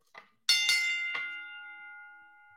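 A Tyson bell, a boxing-style ring bell, is struck a few quick times in succession, each bright metallic clang ringing out and decaying slowly into a long shimmering tail, alone and close.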